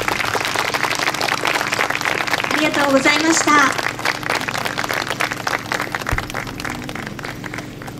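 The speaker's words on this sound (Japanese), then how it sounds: "盛大な拍手をお願いいたします" Applause from an audience at a temple festival's closing event rises for the performers and helpers, a steady wash of clapping under a spoken thank-you that runs through the whole stretch.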